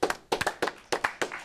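Hand clapping: a quick run of close, crisp claps in an uneven rhythm of small bursts, several in well under two seconds, with no talk over them.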